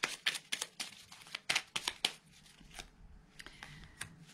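Tarot cards being handled and drawn, a close series of quick papery flicks and slides, busier at first and then sparser and softer.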